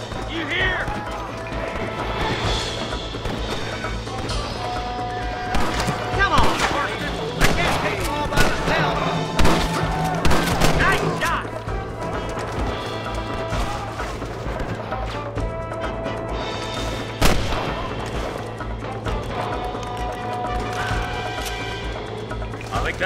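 A Red Dead Redemption shootout: sharp gunshots crack repeatedly and unevenly over a dense bed of game music, galloping hooves and background commotion. Bursts are heaviest in the middle, with a lone loud shot near the end.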